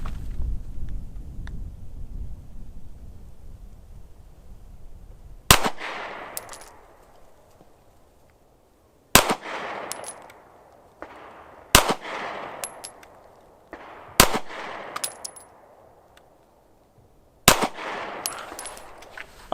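Five sharp, loud pistol shots from an M&P 2.0 Compact with its OEM barrel, unsuppressed, fired singly at a slow, deliberate pace with a ringing tail after each report.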